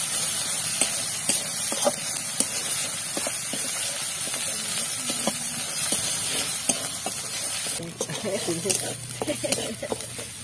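Ginger garlic spice paste with ground coriander, cumin and dried chilli sizzles steadily in a pan, a continuous bright hiss with occasional spatula clicks, under a voice talking.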